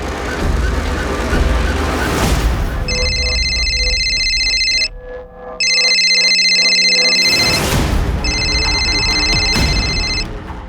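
A telephone rings loudly in repeated electronic trills, with a brief pause between rings and background noise underneath.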